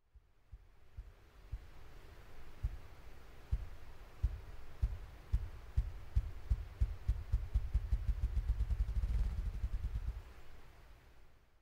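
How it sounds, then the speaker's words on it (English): Ruffed grouse drumming, deep muffled wing-beat thumps starting slow and widely spaced, then quickening into a rapid roll that builds to a crescendo, heard fairly close over faint outdoor ambience. "They beat their wings in a series of thumps that builds to a crescendo."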